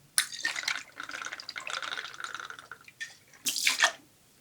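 Rum poured for a daiquiri, a thin liquid stream running into a vessel for a few seconds, briefly pausing, then a final louder splashing burst; close and alone.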